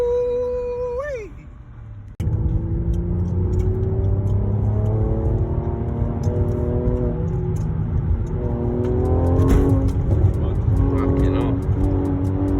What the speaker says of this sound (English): gonna make the exhaust a bit louder so we can hear it